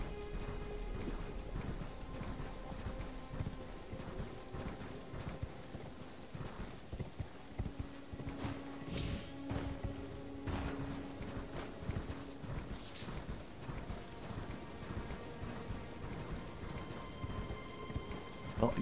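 Steady clip-clop of horse hooves trotting along in Elden Ring, an even rhythmic beat that continues throughout at moderate volume with faint background tones.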